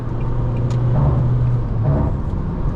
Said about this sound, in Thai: เดี๋ยวเร่งเต็มร้อยไป